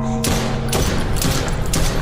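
Several sharp bursts of gunfire in the video game Chuxie crack out in quick succession, loud and close, about four shots over two seconds.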